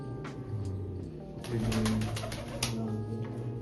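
Pigeons at a rural loft give low cooing calls under a faint background hum, with a brief burst of louder activity midway; quiet and close.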